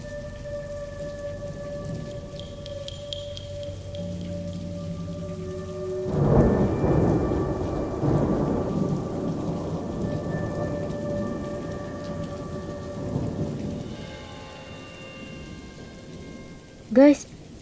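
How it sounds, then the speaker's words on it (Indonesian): Heavy rain pours down steadily with rumbling thunder, the downpour swelling louder midway before easing, and a sharp, loud thunder crack lands near the end. "Nunggu sampai hujannya reda."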